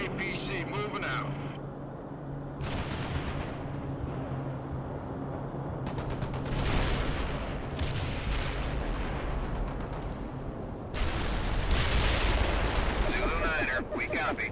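Artillery fire in the World in Conflict video game, with heavy booming salvos and rumbling blasts over continuous battle noise, several loud bursts, and radio-style voices talking over the combat.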